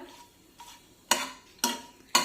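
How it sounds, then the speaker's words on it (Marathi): Cinnamon and bay leaf sauté in a pan for a methi matar malai dish, with a faint sizzle and a regular series of spoon taps against the pan, about five strikes that grow louder, with no talking. "त्यानंतर थोडीशी दालचिनी टाकूया आणि काही सेकंद हे परतून घेऊया"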